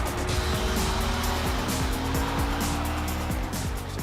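DTM race cars with six-speed gearboxes roar at the Hockenheim circuit in 2013, engines loud and close, climbing in pitch through repeated rapid upshifts as they accelerate hard, with several cars overlapping.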